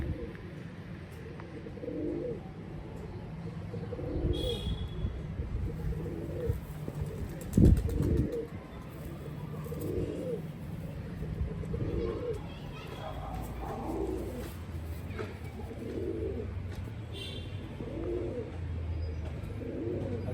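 Pigeons in a loft coo and murmur repeatedly in a low, rolling rhythm, with one brief flutter of wings, while someone talks over them in the foreground.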